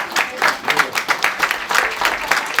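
Steady applause at a Jamaican heritage awards ceremony in New York, a crowd clapping in a dense, continuous patter with no pauses.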